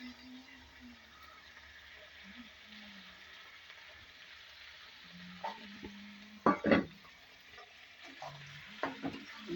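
Onions frying in a pan give a quiet, steady sizzle, broken by a few sharp clatters of stirring near the end, with faint voices in the background.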